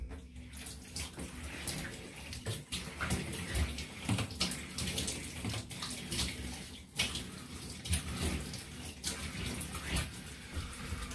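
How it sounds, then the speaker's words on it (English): Water from a tap runs steadily while shaving cream gunk is rinsed off, a continuous close splashing flow with small shifts as hands move under the stream. "I'll just rinse this gunk off"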